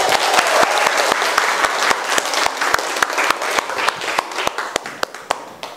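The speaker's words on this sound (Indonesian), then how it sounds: "tepuk tangan buat kalian semua" A classroom of students claps together, with distinct sharp claps standing out over a dense bed of applause that thins toward the end into spaced, fading claps.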